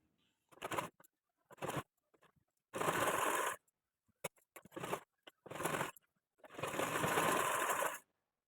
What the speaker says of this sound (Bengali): দেখো তাহলে দুটো সাইডেই আমি সেলাই দিয়ে নিয়েছি সিঙ্গেল সেলাই দিয়েছি